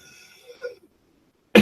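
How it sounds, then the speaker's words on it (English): A person with a bad head cold gives a single sharp, loud cough close by at the very end, following a stretch of quiet background sound. "I apologize now for any coughing or sneezing that I do."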